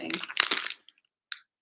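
A pet dog crunching on small star- and Christmas-tree-shaped treats, a dense burst of close crunching followed by a few faint brief crackles after a pause.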